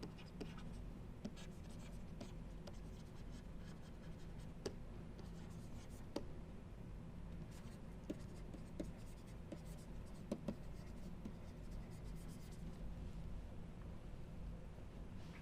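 Faint marker or chalk scratching on a board during a satellite orbits lecture, a few short scattered strokes over a steady low room hum.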